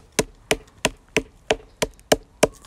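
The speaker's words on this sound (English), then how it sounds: "we're going to hit along the stem" A bramble stem is bashed with a hammer or mallet to break up its fibres for cordage: eight sharp, evenly spaced strikes land about every third of a second, close and crisp with no talking.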